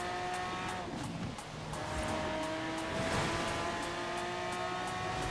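Lamborghini Veneno driven in Forza Horizon 4, its engine droning steadily at high revs with a faint tire hiss, loud and continuous throughout with no talking.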